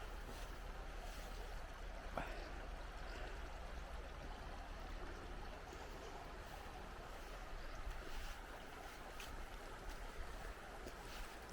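Continuous broad rush of flowing water in a Scottish Highland valley, steady and moderately distant, with a faint low rumble underneath and no voices.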